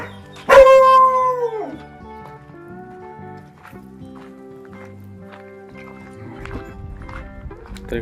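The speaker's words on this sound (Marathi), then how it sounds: "इकडे बघा भरपूर कुत्री आहेत" Village dogs in the Konkan countryside bark and howl, with one loud, close, wavering howl near the start that fades into quieter, scattered yips and background noise.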